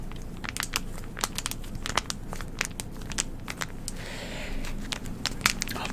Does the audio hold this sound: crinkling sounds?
yes